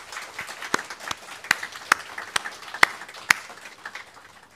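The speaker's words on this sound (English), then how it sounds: "Can we have a round of applause for them" Scattered hand claps ring out one at a time, about ten sharp smacks at uneven intervals, fairly close and with no voices over them.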